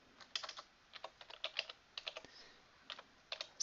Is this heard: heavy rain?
no